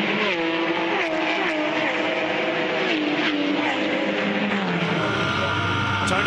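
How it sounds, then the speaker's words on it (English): Onboard a Mosler GT race car in Australian GT racing, the engine drones steadily and loudly with harmonic bands sliding in pitch through gear changes, and a commentator talks over it throughout. "Here we are back on board with Tony Quinn in the Mosler"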